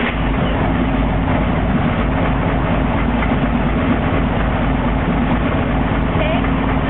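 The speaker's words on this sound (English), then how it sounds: "Start the bike." Motorcycle engine turning over and settling into a steady, loud idle, with a continuous low rumble throughout while the bike warms up after an oil change.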